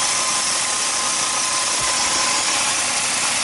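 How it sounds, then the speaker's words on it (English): An idling 2006 VW Jetta with a 2.5 engine and an air leak gives a steady, close rushing hiss over a constant low engine hum, unbroken throughout. "you can hear a leak, you can hear something, it sounds like a leak"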